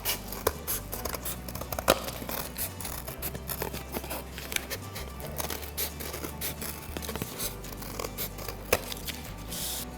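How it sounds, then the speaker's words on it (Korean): Scissors snip through the edge of a cardboard delivery box in a steady series of close, crisp cuts with light paper crinkling between them. "가위로 잘라주세요."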